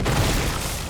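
A grenade blast in the Resident Evil Requiem video game, a dense low boom that fills the whole short moment at steady loudness, rumbling broadly with no separate pops.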